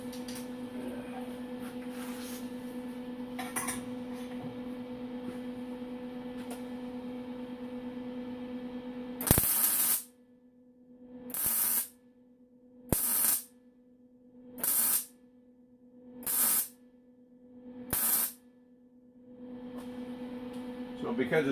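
Arc welder laying short, high-amperage bursts on tube steel: six sharp crackling shots in an even rhythm, each a second or so, separated by a low steady hum.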